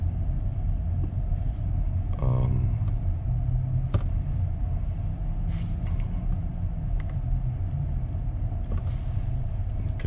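A Honda Accord driving on Openpilot driver assistance gives a steady low road rumble and tire noise from inside the cabin, with a brief rising whine and a few small knocks.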